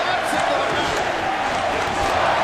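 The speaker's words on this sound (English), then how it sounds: "Listen to this crowd." A loud wrestling arena crowd roars and cheers continuously, a dense wash of voices filling the space with no pause.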